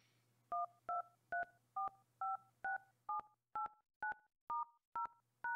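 A phone keypad sounds a quick series of about thirteen clear dialing beeps, evenly spaced and close, as a number is entered in a quiet room.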